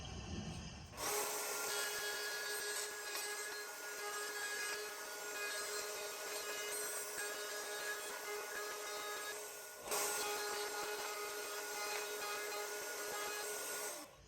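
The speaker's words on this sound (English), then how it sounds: "we'll just clean that up with sandpaper" Sandpaper on wood: steady, dense rasping scrape runs almost continuously with a brief break partway, a close abrasive rubbing sound with faint tonal whine beneath, no talking.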